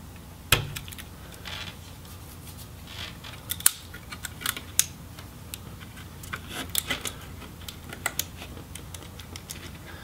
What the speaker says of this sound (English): So we'll go ahead and pull those connectors out using our fingernails.